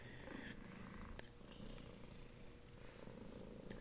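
A cat purrs steadily while resting in a person's lap, a close, continuous low rumble running throughout with soft, even pulsing and no talking.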